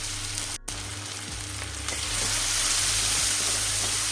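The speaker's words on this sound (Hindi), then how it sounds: "इसे डाल देंगे और लाइट पिंक होने तक अच्छे से भूनेंगे" A medium onion, finely chopped, frying in a pan for Punjabi-style sarson ka saag, giving a steady close sizzle that swells a little louder partway through, with a few light scrapes and no talking.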